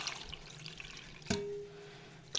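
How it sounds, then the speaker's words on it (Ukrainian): Water, roughly half a litre, is poured over yeast to make homemade bread dough. A brief splash and pour sits under faint room noise, with a sharper burst in the middle and no talking. "І що тепер заливаю водичку?"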